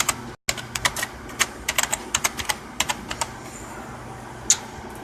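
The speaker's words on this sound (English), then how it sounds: "So, I will just type in" Quick bursts of keystrokes on a computer keyboard, clicking in uneven clusters with short pauses, close and fairly crisp over a quiet room hum, with no talking.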